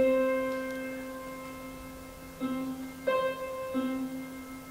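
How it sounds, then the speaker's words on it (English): Two sustained plucked string notes an octave apart sound together, then each returns separately in a few short repeated attacks, moderately loud in a quiet room. "So you heard the first 2 notes together, making the harmony, and then the 2 notes separately afterwards."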